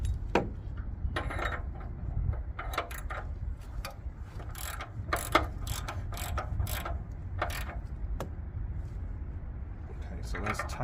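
A hand ratchet tightens an O2 sensor on a Jeep Renegade with a 2.4L engine. It makes close, sharp clicking bursts in uneven spurts, with short pauses between strokes.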